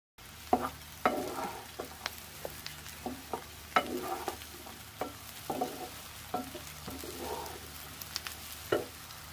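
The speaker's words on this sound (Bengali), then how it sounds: "আর এটাকে সুন্দর করে এখন ভেজে নেব।" Potatoes frying with onion, green chili and cumin, a low steady sizzle punctuated by repeated scraping stirs at an uneven rhythm, close by and without speech.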